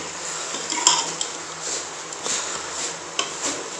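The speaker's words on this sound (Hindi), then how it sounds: "इसको 2 से 3 मिनट के लिए हम ऐसे हिलाएंगे और पकाएंगे," Chicken and green beans are stirred in a cooking pot, giving soft scraping and a few sharper metallic clinks of a spoon against the pot, close and moderately quiet with no talk.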